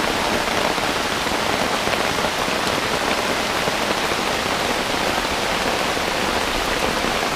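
Steady heavy rainfall drums on leaves in the jungle at a night camp, a loud, uniform wash of raindrops with no voices.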